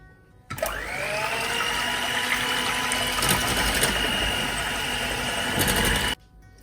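An electric hand mixer whips cream for pistachio malai kulfi, a steady loud motor whine held without a break for about six seconds and then cut off abruptly.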